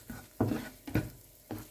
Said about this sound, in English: Once the oil is heated, add the garlic and start stirring until the aroma comes out.